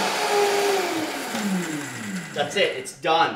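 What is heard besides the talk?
Vitamix 5200 blender on high turbo blending cashews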